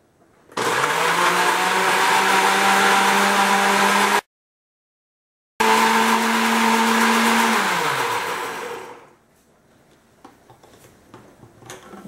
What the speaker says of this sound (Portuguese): Tampe o liquidificador e bata bem.